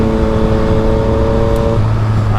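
Loud, close engine note from a Yamaha FZ-09 three-cylinder motorcycle riding through the city, a sustained rising whine that drops to a lower pitch as the revs shift near the end.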